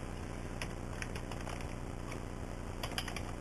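Scattered keystrokes on a computer keyboard while entering a web address, light close clicks in small irregular clusters over a steady low hum, with no speech.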